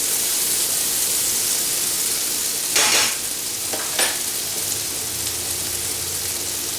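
Onions sizzle steadily in a pan over a campfire cookout, a dense, even crackle with a couple of brief scraping stirs partway through.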